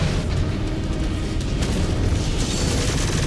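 Mech weapons chain-fire in the MechWarrior Clans video game as a continuous heavy rumble with repeated booming impacts, loud and close throughout the short stretch.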